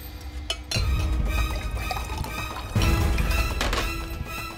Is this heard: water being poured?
yes